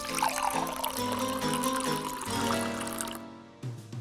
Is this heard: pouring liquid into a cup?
yes